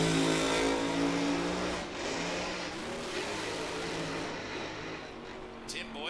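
A nostalgia funny car roars down a drag strip at the Rocky Mountain Nationals, its engine loud and steady at first, then fading into a broad distant rumble as it runs away, with an announcer's voice over it.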